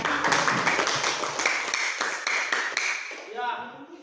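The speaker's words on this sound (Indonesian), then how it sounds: "tepuk tangan dulu untuk kita semua" A classroom of students claps together at the teacher's prompt, a dense burst of hand claps that thins and fades away within a few seconds, with voices talking through it.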